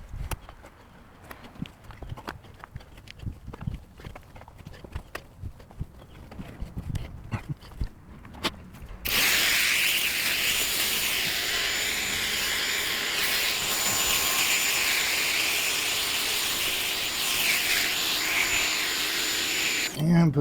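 Foting 4300 PSI pressure washer spraying, a loud steady hissing roar that starts abruptly partway through and continues without break, after quieter scattered knocks and background noise.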